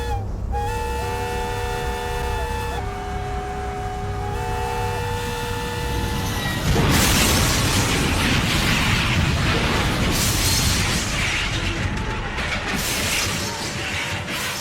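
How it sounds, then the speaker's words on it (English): A train's horn blares in long chords, then a massive roaring crash of grinding metal and rumbling debris from two trains colliding head-on swells and continues loudly. "The two trains collided head-on."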